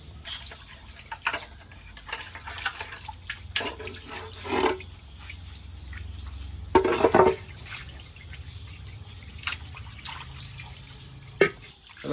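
Varal (snakehead) fish is washed in water in a kitchen. Intermittent splashes and drips sound up close, with a couple of louder sloshing bursts between quieter stretches.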